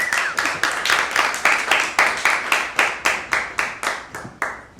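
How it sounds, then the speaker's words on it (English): Warm applause for a colleague at a Solarpunk talk, steady, fairly close hand clapping with a regular pulsing rhythm that slowly tapers in loudness over several seconds. "could you guys give him a warm round of applause?"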